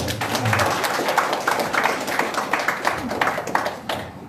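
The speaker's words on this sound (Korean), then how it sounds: "우리 원창훈 시장한테도 힘내시라고 박수를 받았어요" Applause at a Wonju city briefing meeting, offered to encourage the mayor: rhythmic group clapping with a steady pulse of claps, fairly close, and a faint murmur of voices underneath.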